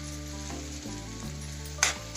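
Mango pachadi fries in oil with a steady, close sizzle and fine crackling throughout, plus one brief sharper spatter toward the end.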